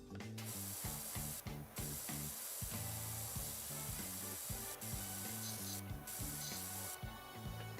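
Pressure washer spray hissing steadily in PowerWash Simulator while cleaning gutters, a continuous broadband rush running under layered game music for the whole stretch, with a few brief pauses.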